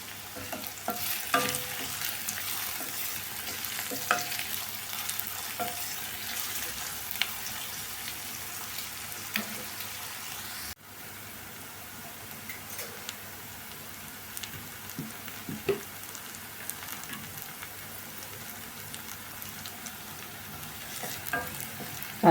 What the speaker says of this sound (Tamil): பாருங்கள், நல்லா ப்ரௌன் கலராக வதங்கிட்டு வெங்காயம்.